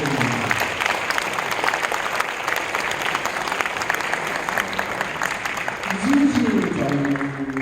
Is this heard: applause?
yes